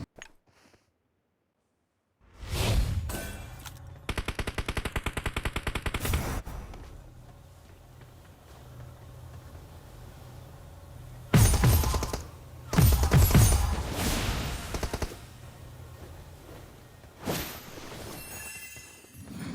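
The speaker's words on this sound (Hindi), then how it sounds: "तो भाई 2 तरफ से मुझे फायर आते हैं, पीछे की तरफ से आते हैं और एक इस तरफ से आते हैं।" Gunfire in the mobile battle-royale game PUBG Mobile: rapid bursts of automatic shots, several loud volleys with gaps between, over a constant background game ambience.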